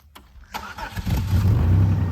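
A car with its hood open and an unfinished exhaust repair starts up with a few cranking pulses, then settles into a loud, rumbling run close by.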